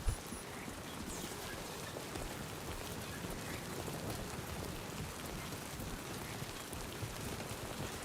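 Timefall rain in Death Stranding 2, a steady dense patter of raindrops hissing across surfaces at an even level for the whole stretch, with no voices.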